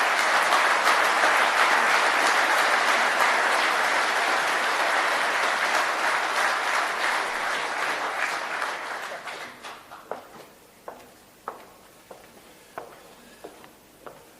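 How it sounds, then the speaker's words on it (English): A large audience at a Doncaster mayoral candidate announcement gives a loud, dense round of applause that holds steady for about ten seconds, then thins out into a few scattered, isolated claps. "If you'd like to give him a round of applause,"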